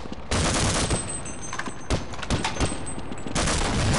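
Enemy gunfire in the video game Half-Life, loud rapid bursts of automatic shots cracking in quick succession, broken by brief pauses between volleys.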